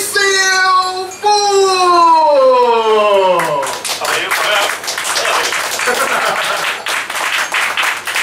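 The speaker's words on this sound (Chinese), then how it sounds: "請鼓掌，歡迎我哋今日嘅講者" Audience applause at a Hong Kong speakers-series talk, a broad burst of clapping from a seated crowd that follows a loud descending tonal glide and then carries on steadily to the end.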